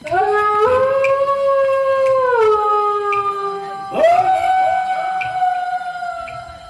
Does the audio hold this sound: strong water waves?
no